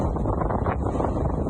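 Strong wind off a lake buffets the microphone in a loud, continuous low rumble with no talking.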